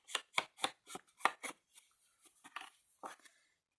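Scissors snipping through paper while cutting pieces for a Harry Potter mini album, a quick run of crisp close cuts followed by slower, lighter snips.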